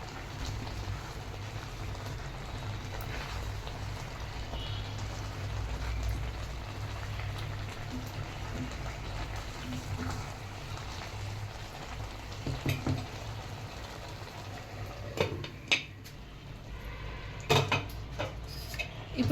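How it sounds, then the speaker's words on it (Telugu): Tomatoes for homemade ketchup frying and cooking down in a pan, a low steady bubbling sizzle that continues throughout, with occasional spoon scrapes and clinks toward the end and no voices. "ఇలా మొత్తం వాటర్ అంతా అయిపోయే వరకు ఫ్రై చేయాలి, బాగా ఉడికించాలి టమాటాని బాగా"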